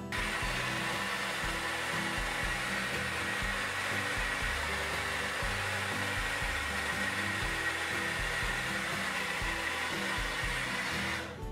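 Hair dryer on high heat with a hot setting blows steadily during an at-home salon blowout with a round brush, a loud continuous whoosh close to the microphone, unbroken and without talking.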